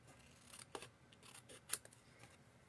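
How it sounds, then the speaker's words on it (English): Scissors snip the sides of a handmade card, a series of faint, crisp cuts at an uneven pace, close and quiet with no talking. "we're just going to trim this up. Trim the 2 sides first."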